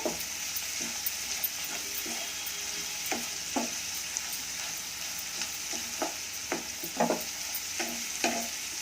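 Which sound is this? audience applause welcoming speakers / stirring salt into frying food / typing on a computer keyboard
stirring salt into frying food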